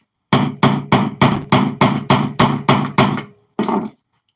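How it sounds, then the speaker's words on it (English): Eleven sharp metallic hammer blows driving an aluminum tool into a firework nozzle, close and loud, struck in a steady quick rhythm, with a short pause before the final strike. "And when I hammer this and when I drive it in with this"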